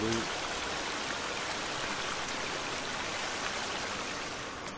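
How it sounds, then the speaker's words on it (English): A steady, loud rush of falling water from a waterfall in the video game The Forest fills the scene without letup, a broad roaring wash that stays constant throughout. "annoyingly loud waterfalls"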